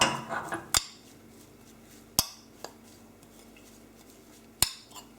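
A spoon stirs parsley and pepper seasoning in a bowl, giving a few sharp, sparse clinks against the dish over a quiet background.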